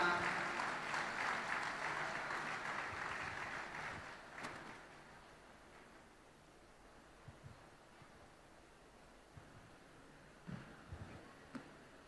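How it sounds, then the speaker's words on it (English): Audience applause at a research and entrepreneurship conference, a dense wash of clapping that swells at first then thins out and fades into quiet room tone with a few stray sounds. "Can we have a huge round of applause for ma'am?"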